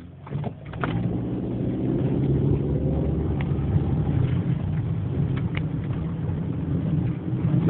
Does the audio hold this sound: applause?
no